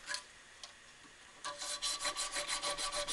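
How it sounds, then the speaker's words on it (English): A file cuts across a knife guard in steady, rhythmic rasping strokes, close and fairly quiet, after a couple of isolated scrapes at the start. "that way with each and every stroke I'm cutting a nice straight line with the file"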